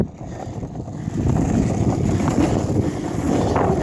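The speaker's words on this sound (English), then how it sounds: "Now the wind's in my face." Steady wind blasts across the microphone while someone skates outdoors in Virginia, a constant low rumbling roar that grows stronger after the first second.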